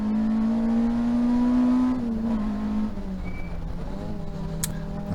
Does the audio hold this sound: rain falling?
no